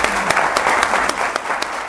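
Loud, dense applause from a crowd during a Mexican radio broadcast, continuous with distinct sharp claps standing out and some voices faintly underneath.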